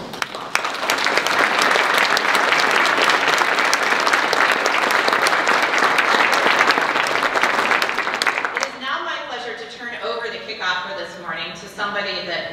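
Loud, dense applause fills a hall at the opening of a Big Data Summit, continuing strongly for several seconds before stopping abruptly as a voice begins speaking.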